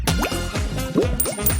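Glue dripped over stacked craft pieces to make a toy fountain, as a short run of wet, bubbly drips and plops in quick succession, close and clear with no talking.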